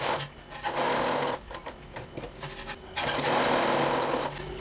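A close sewing machine runs an edge seam along the bottom of a blouse, whirring steadily in two long bursts split by a brief pause.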